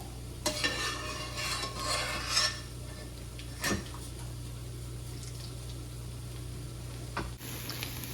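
Boiled vegetables being stirred in a frying pan with a utensil, scraping and clinking against the pan under a low sizzle and steady background hum, with a sharper knock midway.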